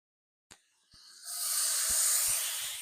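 Onions sweating in butter in a pan: a short tap, then a steady, close hiss that swells and holds, with a few faint clicks and knocks beneath it.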